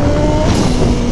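Yamaha XJ6 motorcycle with a turbo conversion running flat out at top speed, a loud, steady high-revving engine roar mixed with heavy wind rush, continuous and close throughout the short stretch.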